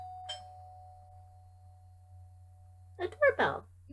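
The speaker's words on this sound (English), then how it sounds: "A doorbell." A single doorbell chime rings out with a sustained tone over a low hum, followed by a person speaking.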